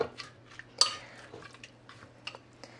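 A mix of amla and tamarind pickle is worked by hand with soft, sparse squishes and light clicks, faint and close in an otherwise quiet room.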